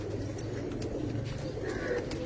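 Pigeons coo softly in a loft, a low murmuring burble repeating over a brief quiet stretch with faint background noise.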